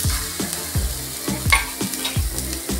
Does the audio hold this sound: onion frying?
yes